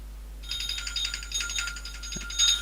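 A phone ringtone starts after half a second and repeats as a bright, high electronic trill that keeps going at a moderate volume over a steady low hum, with a short thump near the end.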